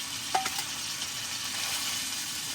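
Green peppers hit a hot pan, setting off a steady broadband sizzle with a brief sharp clink near the start, close and fairly loud with no talking.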